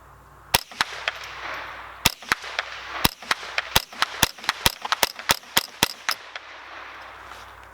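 A Savage A22 FVSR semi-auto .22 rifle fires about ten rounds in quick succession outdoors, sharp close cracks spaced unevenly at first, then coming faster toward the end of the string, with quiet between them.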